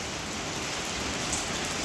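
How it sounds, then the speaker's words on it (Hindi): Continuous rain at midnight heard from a hotel room balcony on the Yamunotri route, a loud, steady, close hiss of falling water with no voices. "2 घंटे से कॉन्टीन्यूसली बारिश हो रही है, रुक रुक कर, कभी फास्ट कभी स्लो।"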